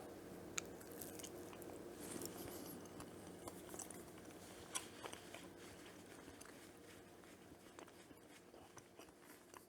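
Someone bites and chews a chocolate orange truffle coated in cocoa powder, soft wet mouth sounds and small crunches up close, quiet and steady with no talking.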